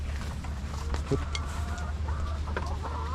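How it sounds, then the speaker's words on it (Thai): Chickens cluck softly in the background, a few short calls scattered over a low steady rumble, no talking. "อันนี้ก็เป็นไก่"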